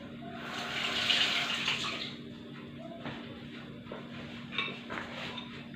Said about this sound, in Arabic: نحيد العجينه وغادي نغسلها